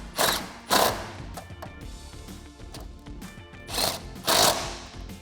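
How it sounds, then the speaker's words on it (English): A ratchet with a 13mm socket tightens bracket bolts for an oil catch can on a 2016-2023 Camaro SS, making two pairs of short, close ratcheting bursts separated by quieter workshop noise. "And now we'll take that same 13mm socket to tighten those down."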